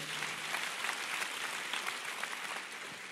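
A church congregation claps during a sermon: a dense, sustained wash of many hands, steady and somewhat distant, with no speech over it.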